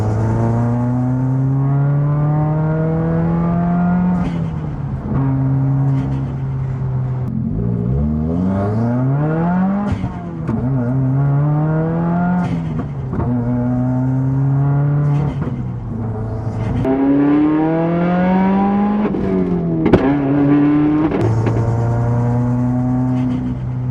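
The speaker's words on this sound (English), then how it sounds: "Let's go ahead and try a third gear pull here." A Subaru WRX accelerates hard in third gear, its engine note climbing steadily in repeated rising sweeps with short dips at shifts, loud and close from inside the car.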